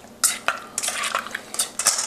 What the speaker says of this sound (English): Give everything a nice stir.